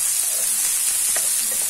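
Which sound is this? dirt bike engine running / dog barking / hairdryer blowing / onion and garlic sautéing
onion and garlic sautéing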